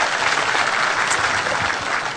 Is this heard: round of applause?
yes